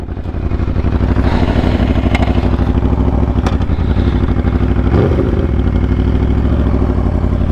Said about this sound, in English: Hopefully that exhaust sound came out really good.